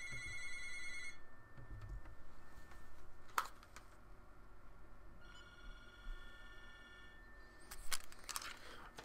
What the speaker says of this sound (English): Pardon me, that was just the phone.